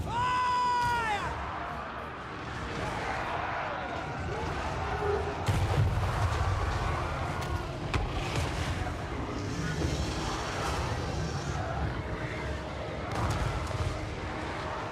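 Hellstorm rocket battery volleys in a Total War: Warhammer 3 fantasy battle: a dense, continuous roar of whooshing rockets and rolling explosions, loud and sustained, with a rising whistle at the start.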